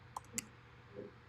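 A few sparse clicks from typing a terminal command on a computer keyboard, faint and close, with a soft low hum underneath.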